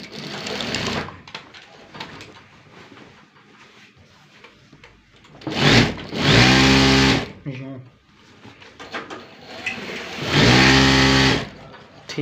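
A sewing machine stitches the side seam of a bedsheet in a small workshop, running in loud whirring bursts separated by quieter pauses, with someone talking between the runs.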